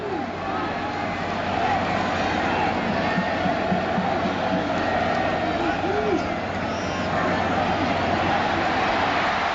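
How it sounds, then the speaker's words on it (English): A packed college football stadium crowd at a Georgia Tech at Virginia Tech game sends up a dense, steady roar of cheering and babble that swells slightly and holds loud for the whole stretch. "you can hear the excitement when Taylor takes off in this crowd"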